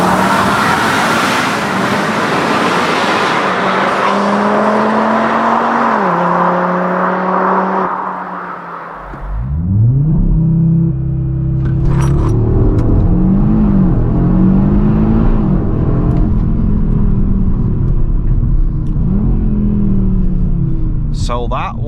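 An Audi RS3 8Y, about 400 hp, with a Grail exhaust accelerates hard, its loud engine note climbing through several rising gear pulls with brief shift breaks, then a deep rumbling surge.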